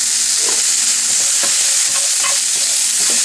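Onions sautéed with salt in a pan, a loud close sizzle broken by repeated scraping strokes of a spoon stirring through them, no talking.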